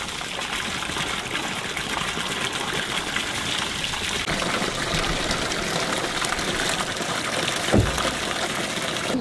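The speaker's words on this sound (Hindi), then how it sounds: "बॉटल से पानी भर रहे हैं" Water runs and splashes steadily into bottles at a roadside spot in Uttarakhand on a winter road trip. The trickling, gushing stream continues for several seconds, fairly close and unbroken, with one brief thump near the end.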